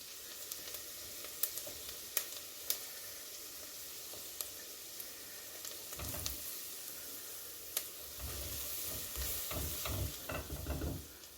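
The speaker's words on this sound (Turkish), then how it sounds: "Soğanlarımız kavruldu. Üzerine un ilave ediyorum." Onions sizzle in a pan while flour is added and stirred in for a milk-based zucchini soup, a steady soft frying hiss broken by spoon scrapes and taps, busier stirring near the end.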